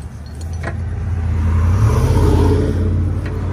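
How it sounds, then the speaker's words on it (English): A car accelerates away from a roadside tow recovery, its engine rumble swelling to a loud peak mid-clip and then easing slightly as it passes close by. "Why do people always accelerate like out of the scene by the tow truck guy?"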